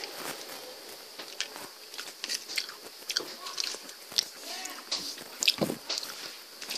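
Homemade Popin' Cookin' candy is bitten and chewed close up, giving repeated crisp, crunchy bites and sticky chewing sounds in an uneven rhythm, fairly loud, with no clear talk over it.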